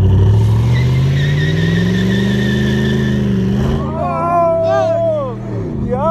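A car revving hard and pulling away from a traffic light, the engine note climbing steadily and loud, then dropping as it shifts, with excited voices shouting over it near the end.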